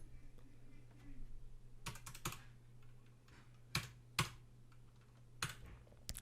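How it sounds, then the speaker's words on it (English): Keystrokes on a computer keyboard while entering a Windows 95 license key, scattered clicks and short bursts of quick taps over a steady low hum, fairly close and alone. "And I'm going to type it in."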